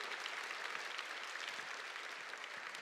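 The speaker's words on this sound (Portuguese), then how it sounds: "aplauda com força a palavra de Deus" A church congregation applauds during a Catholic sermon, with steady, dense clapping filling the space throughout at moderate loudness, with no voices over it.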